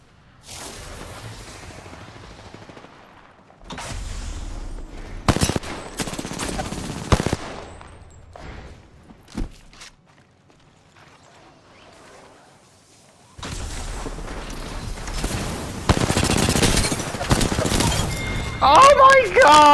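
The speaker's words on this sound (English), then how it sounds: "Someone's shooting at me" Video game gunfire: loud machine-gun bursts and booming shots arrive in clusters, separated by a quiet stretch, then return as sustained heavy firing, with a voice talking over parts of it.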